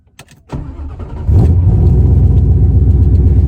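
A Coyote-swapped pace car tuned by Lund Racing, making about 500 horsepower, is started up: a few clicks and a brief crank, then the engine catches and settles into a loud, steady, deep idle.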